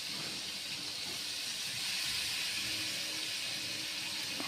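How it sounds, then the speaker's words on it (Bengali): Marinated chicken pieces sizzling in hot oil on a gas stove, a steady, broad hiss that holds evenly throughout with no talking. "এবার ম্যারিনেট করা চিকেনগুলো আমি তেলের মধ্যে একটা একটা করে ছেড়ে দিচ্ছি।"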